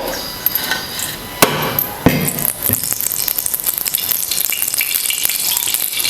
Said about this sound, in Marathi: आता आपण तव्यामध्ये ना तेल घालूया